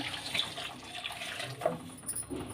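Water from a mixer jar poured into a pan of ground raw coconut and raw turmeric for a tambuli, a soft continuous splash and trickle in a quiet kitchen.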